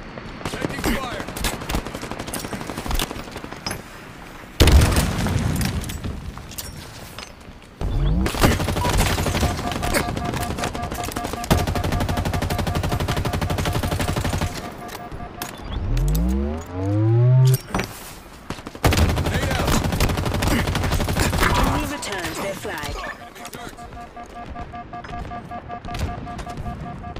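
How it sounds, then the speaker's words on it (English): Rapid bursts of automatic gunfire and shots in Halo Infinite multiplayer, coming in repeated volleys over a busy game soundtrack, with explosions, sweeping sci-fi weapon tones and brief voice callouts in between. "Taking fire."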